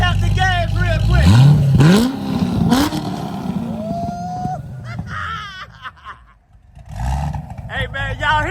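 Classic Chevy with a Corvette LS engine swap revving, a deep rising roar under excited voices and laughter nearby, then easing off as talk continues.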